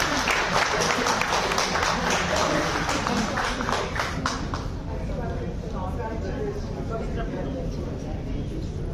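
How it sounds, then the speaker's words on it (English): Applause from a conference audience welcoming someone speaker to the stage, dense clapping that fades after a few seconds into a roomy murmur with speech over it. "Please welcome her with a huge round of applause"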